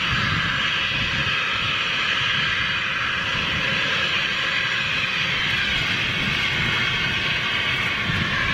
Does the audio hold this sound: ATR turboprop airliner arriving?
yes